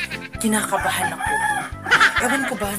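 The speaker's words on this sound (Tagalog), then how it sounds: "Teka lang, ito yung manok niya" A rooster crows close by in bursts under steady talk during a prank in which its owner's chicken is hidden.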